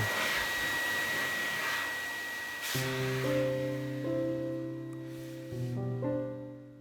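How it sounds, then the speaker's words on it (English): A vehicle blower clears excess polishing compound off a BMW 320D Alpina's paint, a loud rushing airflow that eases off and then settles into a steady droning whine with shifting pitch steps. "Now I'm using the vehicle blower to blow the excess away."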